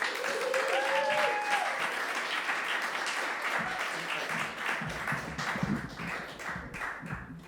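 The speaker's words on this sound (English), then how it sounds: "please give a huge round of applause for Matt Price." Sustained audience applause for a storyteller at a comedic storytelling show, loud and dense at first and tapering slightly, with some cheering voices mixed into the crowd.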